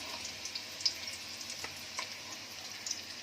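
Ingredients for egg fried rice frying in a pan, a steady close sizzle with faint crackles and a few light ticks scattered through, no talk.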